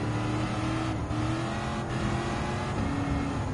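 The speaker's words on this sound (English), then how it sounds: "the sound of the V8 engine is actually to have a good sound capable to have a sweet roar of the engine" A Shelby Cobra 427 V8 in the racing game Gran Turismo 7 holds a steady, loud engine roar throughout, a sustained rumbling drone with no speech.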